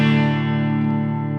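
Donner Tele electric guitar on the bridge pickup, a single strummed chord ringing out and slowly decaying, bright and sustained, played alone with no talking.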